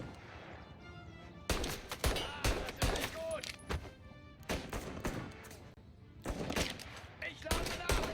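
Gunfire in the video game Mafia Definitive Edition comes in loud clusters of rapid shots, breaking off into pauses before new volleys, with voices talking between the bursts.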